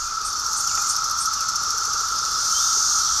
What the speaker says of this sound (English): a new perspective from the sound of the cicadas.